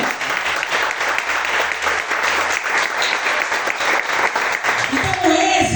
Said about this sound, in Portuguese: Aplauda Jesus por essa palavra.